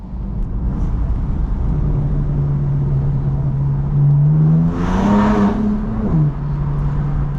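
A BMW M4 driving at night: a loud, steady engine drone with a sustained tone that swells as the car accelerates around the five-second mark, then settles back to cruising, with no talking.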